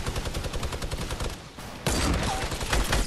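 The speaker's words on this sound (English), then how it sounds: "He's lasering me with that minigun." Minigun fire in a video game, dense rapid rattling bursts at close range, one long stream that drops out briefly, then resumes louder and continues to the end.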